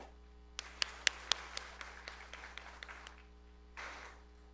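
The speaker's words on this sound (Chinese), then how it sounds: "我们一同鼓掌来欢迎他们" A church congregation at a Sunday service in Kaohsiung claps to welcome new deacons: a few sharp, scattered claps, faint and somewhat distant, then a brief soft burst of clapping near the end.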